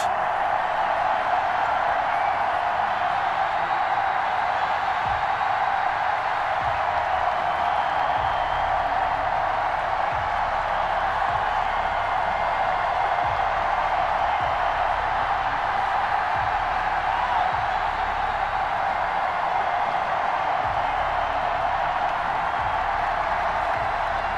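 Continuous roar of a stadium crowd at M&T Bank Stadium in Madden 21 video game, Ravens versus Cowboys, a dense, steady wash of cheering and murmur with no breaks.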